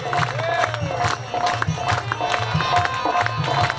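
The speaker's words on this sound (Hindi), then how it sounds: "बजाओ राधा नाम की ताली" An audience at a Shri Krishna Janma Bhagwat Katha claps hands in a steady rhythm, sharp repeated bursts keeping time under a singing voice and crowd noise.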